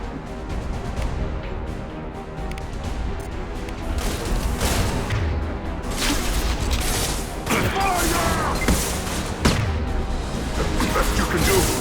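Rapid gunfire and heavy booms crash through a Mass Effect 2 firefight on Tuchanka. The bursts are loud and nearly continuous, with shouting voices mixed in.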